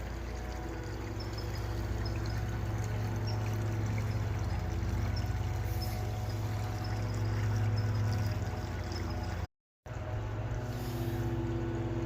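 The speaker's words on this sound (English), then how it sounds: "This culvert is draining from behind the homes on Fencewood from Erie Road." Water draining from a culvert pipe into Cross Canal Brook behind homes on Fencewood off Erie Road, during Erie Canal dewatering; a steady, even rushing pour with low rumble, continuous throughout apart from a brief gap.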